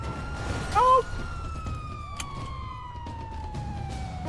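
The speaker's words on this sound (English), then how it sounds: "Sometimes the locals hear the sirens and they decide to get in the way instead" A police siren wails in a driving video game, its long descending tone sliding steadily over a low engine rumble, with a brief vocal sound near the start.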